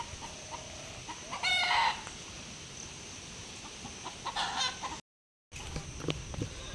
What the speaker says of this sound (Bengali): এই যে আমার মুরগির ফার্ম